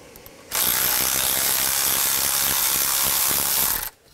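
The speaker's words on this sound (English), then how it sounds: "I'm just going to use a 10 millimeter socket." Ratchet with a 10 mm socket backing out a bolt on a 2007-14 GMC Sierra 3500HD engine, a fast steady clicking burst of about three seconds, close and loud, with no talking.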